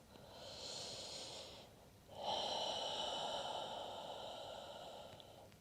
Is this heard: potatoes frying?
no